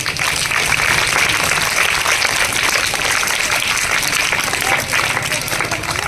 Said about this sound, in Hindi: तालियां बजाओ इनके लिए।